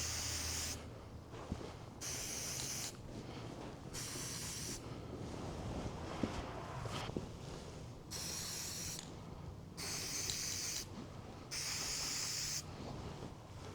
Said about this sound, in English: something that I can spray on this, some kind of a rubber coating type thing, maybe a bed liner